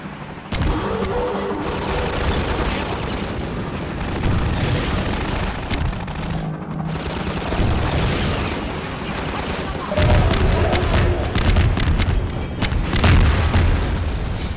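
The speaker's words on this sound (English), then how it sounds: "The sound biomechanical machines make whenever you shoot a rocket at it" In Half-Life 2, a rocket strikes a biomechanical machine amid heavy combat, with deep booms and blasts over constant rattling gunfire, loud and dense from start to finish.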